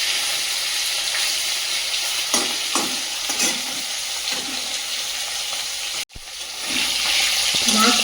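Fish frying in a pan of hot oil, a steady close sizzle that runs on throughout with a few stirring clatters and a brief cut-out before the hiss returns.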